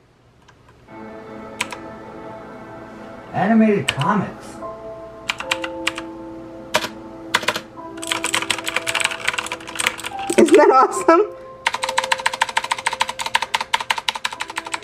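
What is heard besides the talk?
typing on a gaming keyboard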